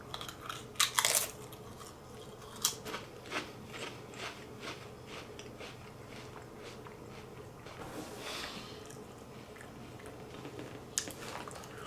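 Strawberry pancake and syrup flavored Lay's potato chips being eaten up close, a few sharp crunchy bites followed by softer ongoing chewing and crackling, with no talking.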